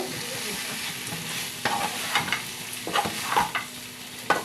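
Paneer curry is stirred in a pan over a soft steady sizzle, with a spatula scraping the pan in several distinct strokes during the second half.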